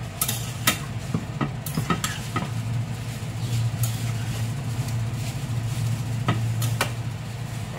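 Moong dal cooked with bottle gourd is stirred and pressed in a pan, giving a steady low sizzle with scattered clinks and scrapes of the spoon against the pan, close and continuous.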